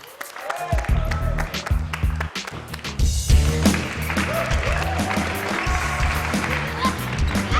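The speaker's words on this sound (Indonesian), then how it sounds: "Ayo kita berikan tepuk tangan untuk Julian." A burst of clapping and scattered applause from a small group in an indoor scene, loud and close with uneven rhythm, mixed with movement and voices.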